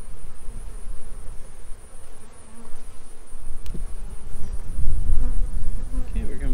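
Honeybees buzz steadily around an open hive as it is split by the Doolittle method, a dense close hum with a brief knock of handled frames partway through.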